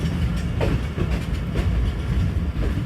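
A Pakistani passenger train rolls toward platform 4 through heavy monsoon rain, with a loud, close, steady rumble of wheels and carriages and faint rhythmic clickety-clack over the tracks.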